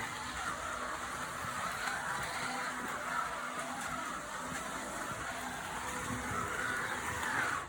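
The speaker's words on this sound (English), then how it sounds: "So that's the Scalextric Dodge Monaco, giving a quick run out" A Scalextric Dodge Monaco slot car, a Chicago Fire Department model, whirring steadily around a racing track, with a continuous high electric motor whine that stays fairly close and even throughout, no voices.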